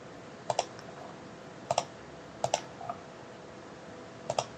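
Computer mouse clicking during Revit work: a few sharp, close double-clicks spaced a second or so apart over a quiet room hum.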